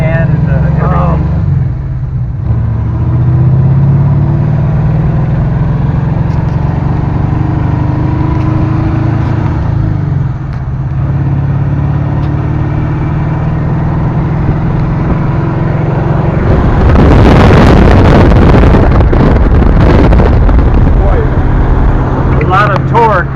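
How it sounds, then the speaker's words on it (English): A car accelerates hard with a whirring fan, its engine humming steadily before a louder, rougher surge of power late on, while people talk over it throughout. "this sounds like almost a Tesla launch"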